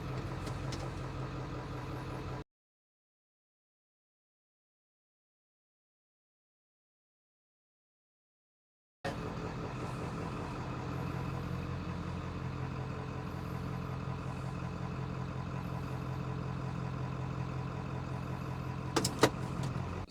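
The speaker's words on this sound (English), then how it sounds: "I'm gonna fire this up. I'm actually gonna back this out of the garage." A Ford OBS pickup truck is started up and left idling as it is reversed out of a garage. A steady, close engine rumble plays at first, then cuts out to silence for several seconds, then comes back as an even idle.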